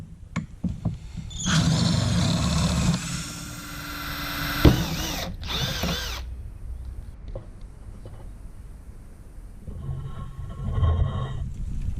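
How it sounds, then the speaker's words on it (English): A power drill bores out a rivet holding plastic trim to the main frame inside the front door of a 2003 Nissan Patrol GU. Loud, close whirring bursts start and stop, followed by quieter mechanical rattling. "I've got to drill out this rivet before I can take or separate the plastic with the main frame"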